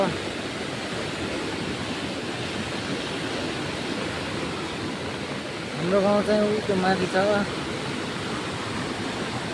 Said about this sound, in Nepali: यता खोला चाहिँ एकदमै ठुलो आइरहेछ